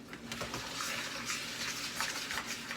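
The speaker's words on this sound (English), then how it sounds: "now I'm just going to stir this up" A meatloaf mixture of crackers, pepper, onion and beaten eggs is stirred in a bowl, giving soft, wet squelching and scraping strokes in an uneven rhythm, close and quiet, with no talk.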